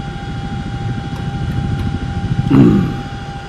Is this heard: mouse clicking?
no